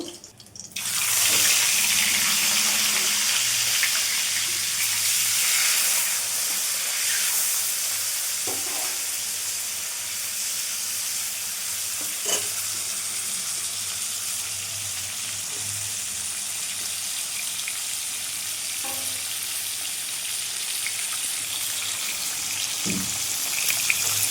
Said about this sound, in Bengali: ভাজা হয়ে গেছে আমি আর একটু ভেজে নেবো